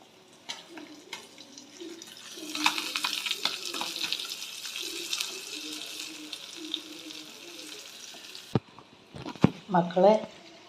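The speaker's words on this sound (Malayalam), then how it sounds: "അങ്ങനെ മീൻ മറിച്ചിടാൻ പോവാണ് മക്കളെ." Sardines frying in a home kitchen pan, a steady hiss and crackle of sizzling oil running under low talk, with sharp clatters near the end as the fish are turned.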